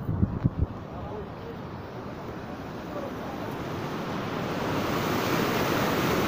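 A flooded Chargad river at Ghatlad rushes past a bridge that has been washed away, making a steady, loud broadband roar of churning water mixed with wind noise on the microphone, with a few brief bumps at the start.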